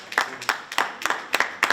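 Scattered applause from an audience at a school board meeting, a few pairs of hands clapping in short uneven bursts for under two seconds.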